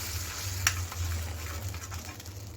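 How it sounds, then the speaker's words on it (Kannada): Okra masala spice mix frying and being stirred in a pan over a low flame, a steady soft sizzle with one brief scrape of the spoon, close and alone. "ಸಿಮ್ಮಲ್ಲಿ ಇಟ್ಕೊಂಡು ನೀವು ಹೀಗೆ ಮಿಕ್ಸ್ ಮಾಡ್ತಾನೆ ಇರಿ"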